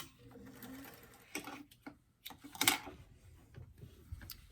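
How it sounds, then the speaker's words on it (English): Short bursts of a home sewing machine stitching around a small doll top, the quick mechanical needle chatter starting and stopping with light handling noise between runs. "And sew all the way around the garment."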